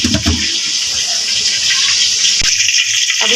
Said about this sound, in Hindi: अब इसमें हम थोड़ा सा ठंडा पानी डाल देंगे ताकि साथ साथ ना जुड़े